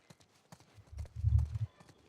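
Horse hooves clip-clop in The Last of Us Part II Remastered, first as a few separate steps and then as a louder, quicker run of heavy, close thuds.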